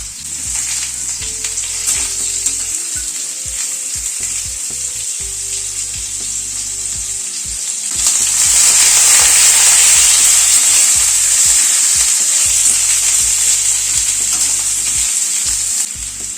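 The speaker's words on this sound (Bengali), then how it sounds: "গ্যাসের ফ্লেমটাকে মিডিয়ামে রেখে আলু কুমড়োটাকে একটু ভেজে নেব" Potato and pumpkin pieces frying in a pan over a medium gas flame, a loud close sizzle with clattering stirring strokes that swells into a stronger, steady hiss halfway through; no speech.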